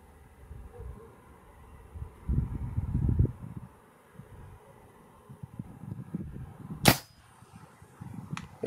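A Gen 2 Reximex Throne 4.5mm PCP air rifle fired at a target: one sharp, close crack stands out against quiet rustling and low background noise.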